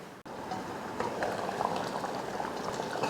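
Eggplant kuzhambu bubbling in a covered pot, a steady close simmer of dense popping bubbles lasting throughout, with no talking.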